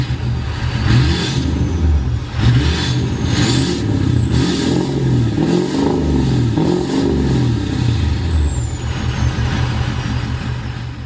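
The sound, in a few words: car revving with 4-inch turbo-back exhaust, 8-inch tip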